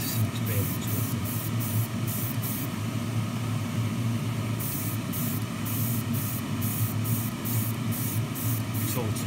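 An airbrush sprays paint onto Tamiya Ferrari LaFerrari 1:24 model engine parts, hissing in bursts of pulsed spray separated by a pause, over a steady compressor-like hum.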